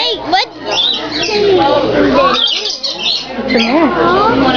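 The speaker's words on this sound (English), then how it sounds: "I like those birds." Loud, rapid squawks and chirps from birds at Portland Aquarium, close and layered, with children's voices mixed in among the calls.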